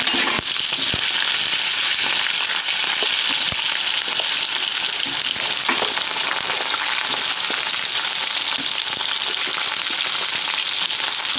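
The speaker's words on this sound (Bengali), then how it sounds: "এবার আলুটা দিয়ে ভালো করে ভেজে নেব।" Potatoes fry in hot oil with black cumin and green chillies, a continuous close crackling sizzle with scattered clinks and scrapes of stirring across the whole stretch, no voices.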